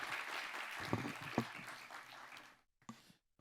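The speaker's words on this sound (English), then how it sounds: "please join me once again for a round of applause for His Excellency President Ali" Audience applause at a security forum for a head of state, a few seconds of moderate clapping that stops abruptly, followed by faint murmuring.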